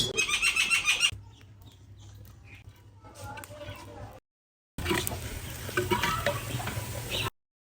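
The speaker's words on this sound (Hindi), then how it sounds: "अब प्याज को ब्राउन होने के लिए छोड़ देते हैं।" Onions browning in a pan for a matar keema, with a steady soft sizzle and occasional stirring scrapes. A louder burst of frying opens the sound, and it returns strongly after a brief silent gap.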